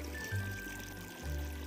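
Water spills from a filtered koi pond's waterfall in a steady, close pour with a low, continuous rush and small surges, no voices.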